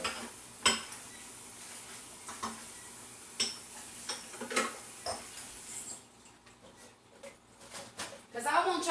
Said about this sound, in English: I'm going to clean this bowl off real quick